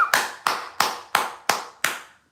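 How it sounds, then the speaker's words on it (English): Six sharp, evenly spaced hand claps from one person during a livestream, close and crisp, each with a short ringing decay, then silence. "Let's clap hands for Felix"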